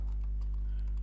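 Soft, scattered keystrokes on a computer keyboard tap irregularly under a steady low electrical hum, quiet and close, with no voices.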